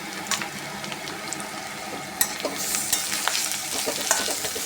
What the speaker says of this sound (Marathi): आता आपण याच्यामध्येच आलं लसूण कोथिंबीर पेस्ट बनवून घेतली होती ती घालून घेऊया.